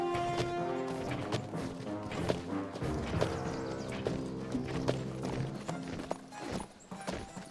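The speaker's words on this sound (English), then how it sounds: "That is a horse. That is also a horse." Horse hooves clip-clop steadily in the King's Quest video game, a close, rhythmic clatter of footfalls over layered game music that continues throughout.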